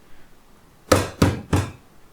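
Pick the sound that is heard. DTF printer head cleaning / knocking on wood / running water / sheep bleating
knocking on wood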